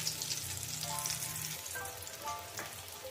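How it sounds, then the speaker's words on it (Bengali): Pea dhoka cakes fry in a small wok (kadai), giving a steady close sizzle of hot oil with light crackles and a few faint clinks throughout, no voices. "এখন দেখো খুব আস্তে করে আমি ধোকাগুলো উল্টে দিচ্ছি।"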